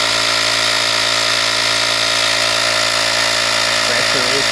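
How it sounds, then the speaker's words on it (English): An Airman ResQ Pilot portable air compressor runs loud and steady with a continuous motorized whine and a low hum, and a voice briefly speaks near the end. "I'll turn the compressor on and see what happens"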